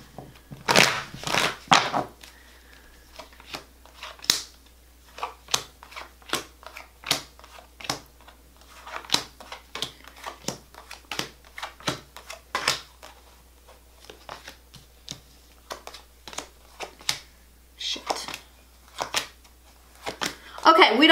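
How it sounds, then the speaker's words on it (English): Tarot cards are shuffled by hand close up in a run of sharp, irregular riffles and taps, with louder bursts at the start and end and quiet gaps between. "One more good shuffle."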